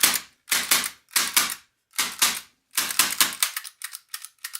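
Plastic gas blowback airsoft pistol fired in paired and clustered bursts, crisp loud cracks up close that grow fainter and thinner toward the end as the gas pressure fades.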